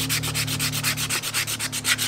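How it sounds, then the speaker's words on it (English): Sandpaper of about 150 grit rubbing a natural wood fork slingshot smooth, quick rhythmic back-and-forth strokes heard up close and steady over a faint low hum, with no voices. "we're gonna start sanding it smooth"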